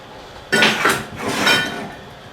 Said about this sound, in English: right now I'm just tacking this together.